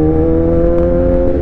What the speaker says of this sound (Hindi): थोड़ा सा भी थ्रॉटल खोलो, एकदम थोड़ा सा, बाइक डायरेक्ट आगे निकल जाती है।